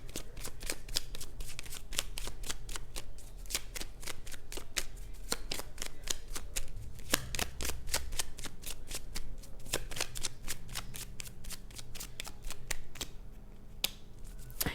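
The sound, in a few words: shuffling tarot cards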